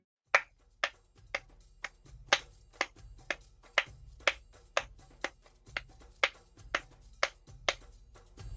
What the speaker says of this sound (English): I will clap the beat to start to help you.